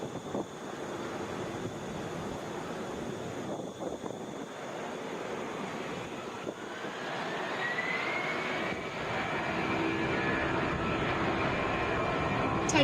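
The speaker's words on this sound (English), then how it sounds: "Wheels down on this Boeing 737." A Delta Boeing 737 jet landing at Atlanta International Airport makes a rushing engine roar that builds gradually, with a rising whine sweeping upward in the second half as the noise grows louder.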